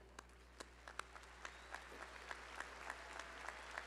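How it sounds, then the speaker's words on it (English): Applause for graduates at a business college commencement, a faint, distant wash of many hands clapping with scattered sharper claps, under a low steady hum. "please join me in one last round of applause for all of the students receiving a bachelor's degree today"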